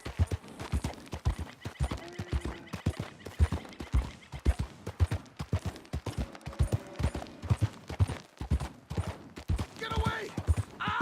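Galloping horse hooves thud in a fast, uneven rhythm throughout a Red Dead Redemption 2 ride, with a brief whinny and faint distant gunfire near the end.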